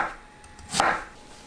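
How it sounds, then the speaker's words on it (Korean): A knife slices through peeled sweet potato into 1 cm thick pieces, giving a single soft chop-like thud near the middle of a short, quiet stretch. "껍질 제거한 고구마를 1cm 두께로 썰어주세요."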